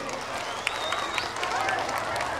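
Applause from an audience for models at a fashion segment of a 2 September music show, a faint, steady wash of clapping with a few sharper claps and some crowd noise throughout.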